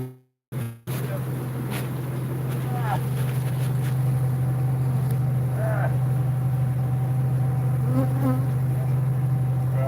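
Dense, steady buzzing of a swarm of bees around an opened hive, with a loud low hum throughout and scattered brief voices and small sounds over it after a short gap at the start.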